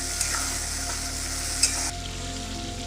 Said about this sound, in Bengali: মিডিয়াম ফ্লেম দিয়ে আমি এই মশলা দিয়ে টমেটোটা ভাজতেই থাকবো